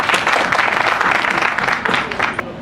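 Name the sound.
audience applause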